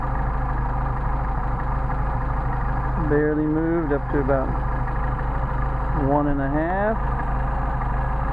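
A Mercedes 190SL engine idling steadily with Solex carburetors, close and even, while someone talks over it.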